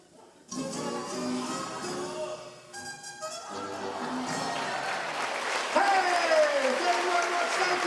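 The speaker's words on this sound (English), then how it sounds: "fling open the fabric and receive your well-deserved applause" Audience applause after a comedy magic trick at the Savannah Center in The Villages, Florida, swelling into a steady, full-room clapping that builds louder, with music or tonal sounds running underneath.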